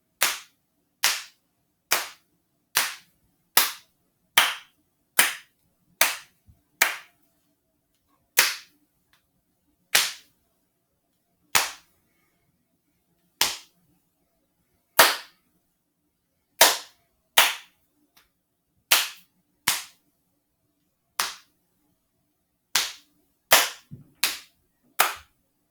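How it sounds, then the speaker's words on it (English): Sharp percussive hand claps and knee slaps in a steady rhythm with uneven gaps, crisp and close, no voices. "the top line is clapping your hands. The bottom line is tapping your knees."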